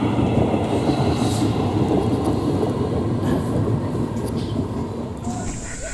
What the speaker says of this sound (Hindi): ये है मेहंदी पठार गुवाहाटी पैसेंजर।